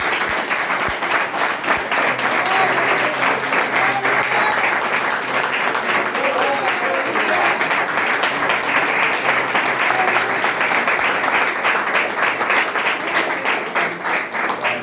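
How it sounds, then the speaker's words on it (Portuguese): A church congregation applauds during a worship service, with steady, dense clapping that stays loud and continuous for the whole stretch and no talking over it. "Vamos aplaudir a Jesus"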